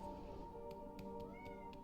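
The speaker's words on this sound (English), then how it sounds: "You hear the cat?" A cat meows several times in Hollow Knight: Silksong, short bright calls spaced through the clip over a continuous humming game ambience, fairly quiet and with no talk.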